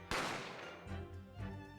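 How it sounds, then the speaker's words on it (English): A single sharp gunshot sound effect from the game Great Ace Attorney, a loud close crack followed by a decaying rumble and a fainter echoing report. "You heard the gunshot, you mean."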